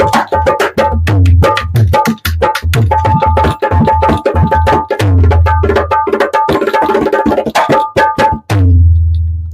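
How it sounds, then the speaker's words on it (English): A professional mango wood dholak played in a fast, lively pattern, with deep booming bass strokes under sharp, ringing treble slaps, loud and close with no voice. "So a professional Dholak, this particular type, sounds like this."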